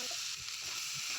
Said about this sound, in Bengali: এবার পাস্তাগুলোকে একটু ভেজে নেব, ভালো করে ভেজে নেব।